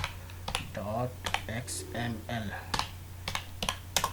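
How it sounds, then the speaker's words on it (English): Quick bursts of typing on a computer keyboard, close and fairly quiet, with irregular key clicks under a voice talking over them. "when I will type sitemap.xml"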